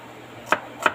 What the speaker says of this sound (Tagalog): Ayan, hiwa natin sibuyas.